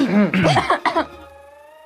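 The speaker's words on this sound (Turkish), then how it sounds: "Neden öksürüğün için bir şey almıyorsun?" A person gives a few harsh, close coughs with a throaty edge, followed by a brief voiced tail that fades out.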